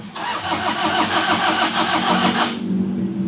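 A Toyota Vigo or Fortuner 1KD/2KD diesel engine cranks with a rapid chugging rhythm for about two seconds, then catches briefly and settles into a low hum.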